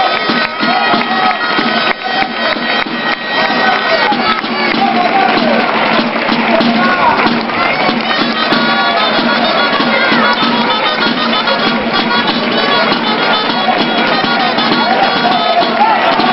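A crowd cheers at a castellers human tower event, the Diada del Roser with the Xicots de Vilafranca, a dense, continuous outdoor roar of voices and applause that holds steady throughout, with some nearby talking mixed in.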